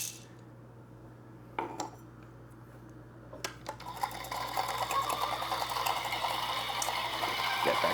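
Electric flatbed coffee grinder grinding coffee beans in a hotel room, a dense whirring grind that starts quietly with a few clinks and builds to a steady, louder rasp for the last few seconds.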